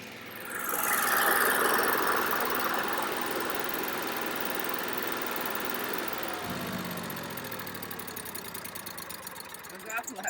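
RV generator running steadily with a droning mid-pitched hum, then winding down and falling quiet as an automatic starter shuts it off near the end.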